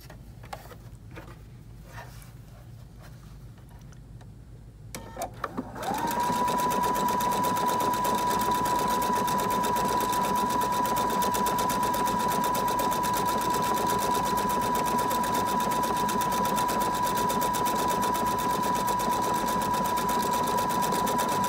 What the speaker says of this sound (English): Before you start stitching, you're going to want to engage the stop button, and you can also engage the fix button.